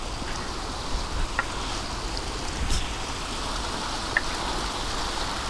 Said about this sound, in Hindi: ये देख सकते हैं छोटे छोटे वाटरफॉल यहाँ पर बहुत सारे हैं और देख सकते हैं कैसे पानी नीचे जा रहा है।